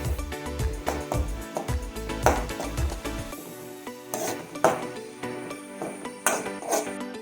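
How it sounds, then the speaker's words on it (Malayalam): Beetroot thoran being stirred in a pan with turmeric, a spoon scraping and clinking against metal in a steady, repeated rhythm, close and moderately loud, with soft sizzling beneath. "എന്നിട്ട് നല്ലപോലെ ഇളക്കാം"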